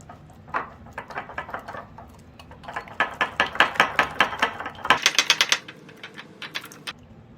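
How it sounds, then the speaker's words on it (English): A whisk beats mustard sauce seasoned with kosher salt in a bowl, making a fast series of close, crisp clicking strokes that grow denser and louder toward the end before trailing off into a few taps. "And we're going to whisk this up."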